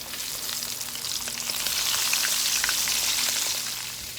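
Shrimp dropping into oil heated about fifteen minutes, a steady close hissing sizzle with crackling pops that swells and holds throughout, no voices.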